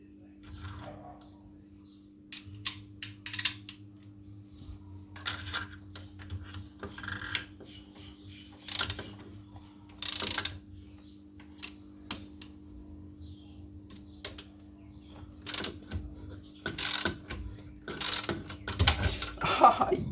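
Bolts on a car's brake assembly are tightened with a ratchet tool during a disc and pad change, giving quiet irregular clicks, metallic ticks and clanks against a low hum, with no talking.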